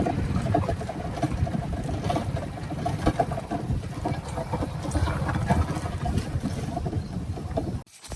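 A tractor engine runs at a steady, even idle on a farm, droning close and constant for several seconds before cutting off abruptly near the end.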